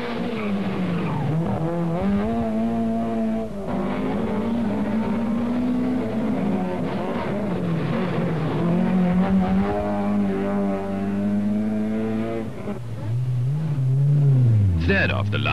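A rented Opel Ascona rally car leaves the start of a 1983 Belgian rally stage, engine revving and climbing through gears with tyres scrabbling, while a commentator talks over it.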